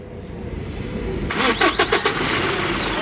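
A car engine with a previously loose injector bolt cranks with a few rhythmic turns of the starter, then fires and keeps running at a steady idle, heard close by.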